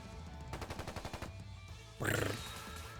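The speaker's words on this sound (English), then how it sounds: "It's gunfire. Yep. And not just gunfire either. EDF gunfire." EDF gunfire in the video game Trails into Reverie rattles as a rapid burst of repeated shots, followed by a sharper louder blast over a steady background of game sound.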